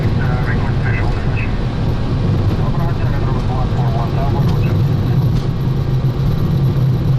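Boeing 737 jet engines spool toward takeoff thrust on a runway on a windy day, a loud, steady broadband roar with a low drone, with cockpit voices talking intermittently over it.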